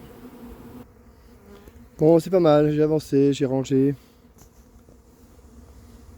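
A honeybee swarm being settled into a hive keeps up a steady low hum throughout, while someone speaks close by for a couple of seconds in the middle.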